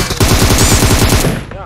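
Automatic gunfire in PUBG Mobile, a rapid loud burst of about a dozen evenly spaced shots, close and sharp, fading out at the end.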